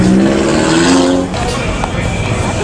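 A McLaren P1 hypercar engine revs loudly and close by, a strong tone that holds and climbs before easing into a rougher roar, with voices talking over it.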